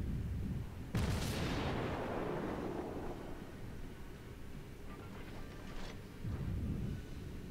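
Heavy naval guns on a Japanese IJN Kuma cruiser booming in World of Warships: one loud salvo with a long rumbling decay, then fainter distant shots and a low thump later.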